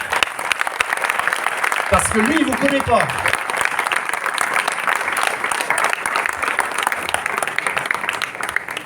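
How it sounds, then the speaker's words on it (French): Loud, sustained audience applause at a large rally gathering, dense clapping filling the hall throughout while someone speaks briefly over it near the start. "vous allez applaudir très très fort"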